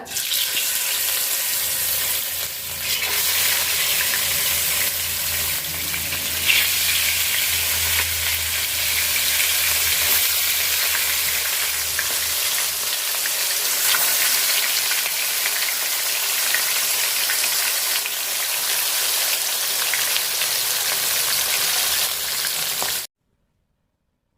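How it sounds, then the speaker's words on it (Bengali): Hilsa fish pieces, rubbed with turmeric and salt, fry in hot oil with a steady, loud broadband sizzle that runs unbroken for over twenty seconds, with faint clatter underneath and no one speaking. "তেল গরম হয়ে গেছে তো বাজা নিব মাছগুলা"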